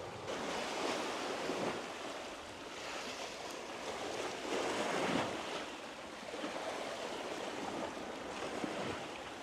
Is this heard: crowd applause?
no